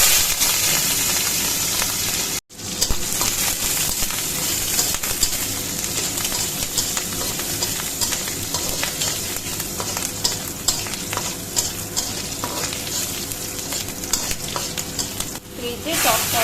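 Prawns fry noisily in hot oil after a mustard seed tempering, a dense continuous sizzle with scattered crackles and stirring scrapes, briefly cut near the start.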